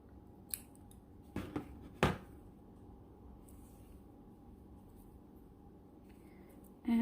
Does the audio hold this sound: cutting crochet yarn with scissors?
yes